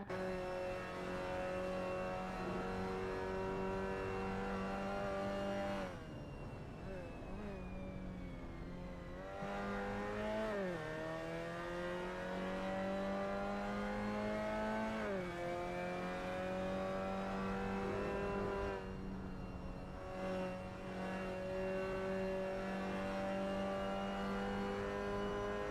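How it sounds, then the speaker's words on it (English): Onboard engine note of a Mazda MX-5 race car lapping in an MX-5 League round at VIR, a loud continuous buzzing drone that rises and falls through gear changes and revs with no talk over it. "get a nice little sound of these MX-5s here, the little buzzing bees that these cars are"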